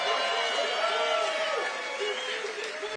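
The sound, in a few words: rally crowd cheering that sounds like booing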